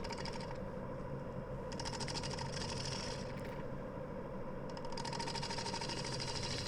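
Steady mechanical whir of a wood lathe turning at 800 RPM while hollowing a big ash bowl, a continuous broadband hum with intermittent bright scraping bursts from the tool on the wood.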